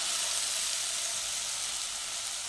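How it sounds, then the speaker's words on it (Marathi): Onion and masala sizzle in a hot pan for shevpuri, a dense, steady hiss of frying that stays close and even throughout with no talk. "हा मसाला त्या कांद्याबरोबर चांगला भाजून घ्यायचा आहे."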